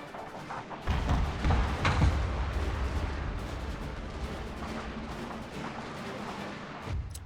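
Artillery fire in a strategy video game sounds as a string of deep, booming thuds and explosions that roll one into the next, loud at first and then easing into a lingering rumble.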